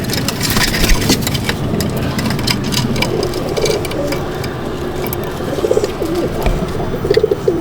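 Low, steady cooing comes from many pigeons in a Madrasi pigeon loft at Baguihati, blended with a constant droning rumble that runs through the whole scene.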